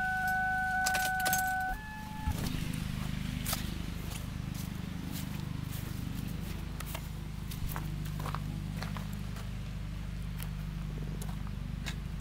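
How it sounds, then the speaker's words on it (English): A 2001 Ford Taurus engine idles steadily with the air conditioning running, a low continuous rumble with a brief jingle of keys near the start. "So you want to start the car up and let the air conditioning run on"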